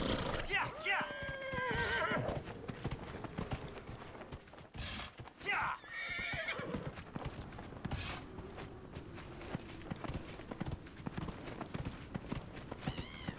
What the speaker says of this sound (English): I guess I'm riding a horse.